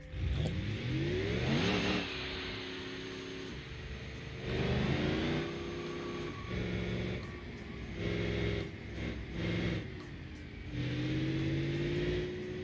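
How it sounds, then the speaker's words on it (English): A video-game race car with a turbocharged and supercharged V8 diesel, built for a 1992 DTM-style challenge, revs loudly through repeated rising accelerations and gear changes, close and dominant throughout with no talk. "This thing is running with a turbocharged and supercharged V8 diesel."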